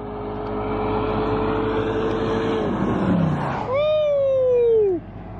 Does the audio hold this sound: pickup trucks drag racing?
yes